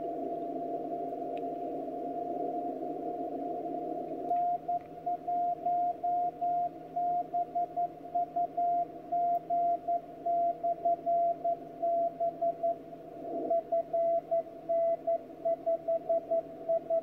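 A radio signal tone received on a 10 GHz LNB receiver system during a bench test: a steady hum gives way to a clear keyed tone pulsing on and off in a regular rhythm over faint background noise.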